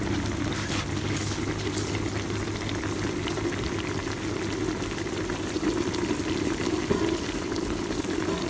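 Herb-stewed beef shank broth boiling hard in a pot, a dense, steady bubbling roar with continuous churning pops and no voices.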